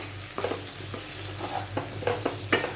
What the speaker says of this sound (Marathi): आता मी हे बटाटे जे आहेत ते ह्यामध्ये घालून घेते आणि हे व्यवस्थित असं मिक्स करून घेऊया